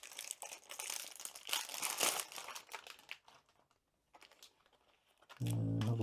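A glue-strip seal on a Diamond Art Club Darth Vader key chain package is peeled open, crackling plastic and paper crinkles up close for a couple of seconds, fading to small rustles before a brief tonal sound at the end.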